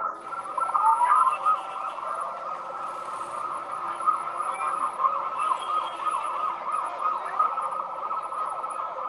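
Police car siren wailing steadily and fairly loud in the distance for the whole stretch, with faint background noise and a brief spoken phrase near the start.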